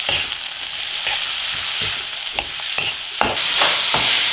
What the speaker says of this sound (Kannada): ಕಟ್ ಮಾಡಿರೋಂತಹ ಕ್ಯಾಬೇಜ್ ಹಾಕಿದ್ಮೇಲೆ ಅದನ್ನು ಮಿಕ್ಸ್ ಮಾಡಬೇಕು